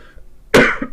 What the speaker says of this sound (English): Oh, random cough.